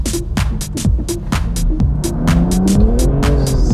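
A BMW M2 CS accelerates hard on a street near Wassenaar, its engine climbing loudly through repeated rising revs with sharp gear-change breaks and crackling pops, close and dominant throughout.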